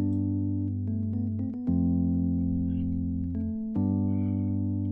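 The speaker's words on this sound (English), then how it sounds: "I picked this e-piano from Lounge Lizard." Soulful chords from a Lounge Lizard electric piano in a beat-making session, sustained and clean, changing chord every second or so, played alone at moderate volume.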